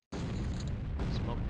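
A smoke grenade goes off in the OpenXcom game, starting abruptly with a loud, sustained hissing burst that holds steady for over a second, with a voice speaking over it.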